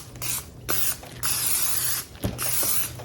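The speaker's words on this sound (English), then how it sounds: "So I'm going to give it a spray of Pam." Several short hissing bursts of Pam cooking spray onto chicken, each a second or so long, close up and separated by brief pauses.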